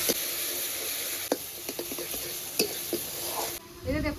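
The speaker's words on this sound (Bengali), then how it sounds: "এবার ভালো করে মশলাটা কষাবো।" Spice paste with tomato and salt sautéing in a pan, making a steady low sizzle broken by sharp spatula knocks and scrapes, with brief talking near the end.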